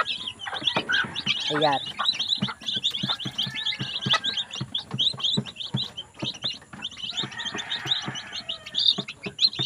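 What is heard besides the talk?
chicks chirping on a farm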